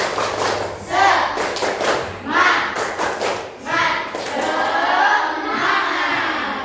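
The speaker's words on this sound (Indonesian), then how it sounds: "Kalau tepuk semangat bisa? Ya, tepuk semangat." A school class claps in a rhythmic chant-and-clap pattern, bursts of hands in quick sets alternating with shouted group chanting, fairly close and lively.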